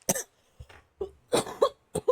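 A series of sharp coughs, about five or six bursts in uneven succession, close to the listener with brief pauses between them.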